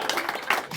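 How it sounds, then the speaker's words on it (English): Comedy club audience clapping for the comedian's mother, a dense, even patter of many hands that carries steadily through a short moment. "Give her a round of applause"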